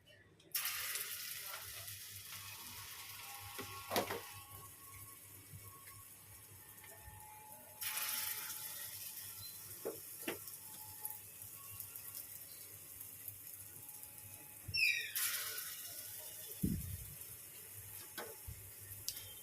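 Poppy seed fritters hand-shaped into rounds are dropped into hot oil, setting off bursts of loud, hissing sizzle that swell and settle, with a few clinks and knocks nearby and no voices.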